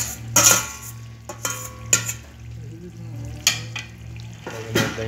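Okra stirred with yogurt in a pot: a soft simmering sizzle broken by several sharp spoon knocks and scrapes against the metal, close and clear, with no talking.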